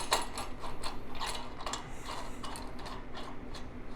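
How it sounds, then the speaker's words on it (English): A bump stop nut on a Land Cruiser LX470 modular rear bumper being tightened, giving a quick run of close ratcheting clicks that is loud at first and steady for a few seconds. "And then you tighten the bump stop."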